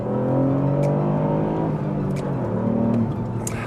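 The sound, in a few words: Ford Fiesta ST three-cylinder engine revving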